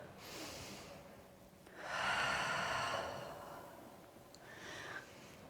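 A slow, audible inhale through the nose during a Pilates reformer core exercise, a soft airy breath swelling then fading, with a fainter breath before and after.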